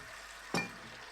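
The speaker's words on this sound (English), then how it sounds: "I can hear doors opening and closing and cutlery clinking together." A single quick clink of kitchenware rings out once over a quiet, faintly hissing background.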